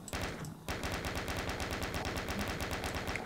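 A newly picked-up gun in a modded Doom game fires in a rapid, steady automatic stream of sharp shots, loud and close, running continuously after a brief pause near the start, with no voices.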